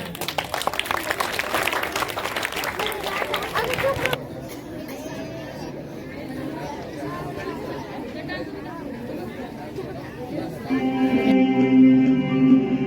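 Students at a school Republic Day celebration clap and chatter for a few seconds before the applause fades into a murmuring crowd, with music beginning near the end.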